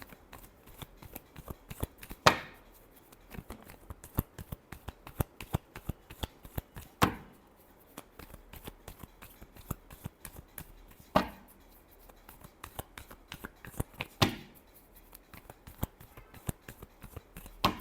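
Tarot cards being shuffled by hand, a quiet, close run of crisp riffling snaps with a few sharper slaps, steady and fairly faint.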